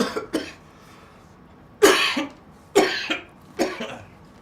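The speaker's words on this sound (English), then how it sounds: "that stupid cough that's still in my throat" Three sharp, harsh coughs close to the mic, spaced about a second apart, with a couple of fainter coughs just before and no talking.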